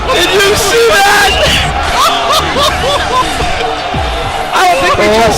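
A packed crowd at a high school JV hockey game between DRS and Frisch roars loudly and steadily, with whoops, yells and babble blending into a continuous wall of cheering, a commentator's voice riding on top.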